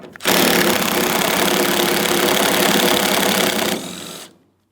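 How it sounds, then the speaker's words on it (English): A 13 mm socket on a power tool drives out the tailgate strap mounting bolt on a 2007-2014 GMC Sierra 2500 HD, giving a loud, steady, close mechanical whir for about four seconds before it winds down and stops. "Now along each side of the vehicle, we have to remove our tailgate strap mounting bolt."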